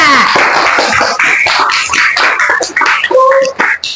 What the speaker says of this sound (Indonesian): Tepuk tangan buat kelompok ketiga.